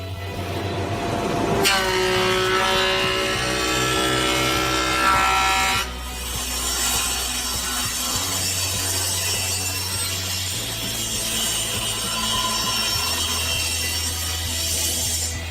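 A power saw cuts wooden stair boards to their final size, loud and close, with a sustained whining cut that stops and restarts, followed by the steady hum of the running machine.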